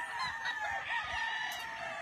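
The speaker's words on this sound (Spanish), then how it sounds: "mira, qué bonito gallo" A show rooster at the Granja Santa María farm crows close by, one drawn-out, strained call filling the moment over a faint background of clucking fowl.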